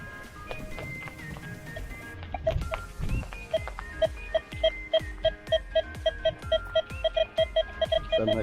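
A metal detector sweeping a beach sends out a string of short, evenly spaced electronic beeps, steady and clear over faint rustling and background noise.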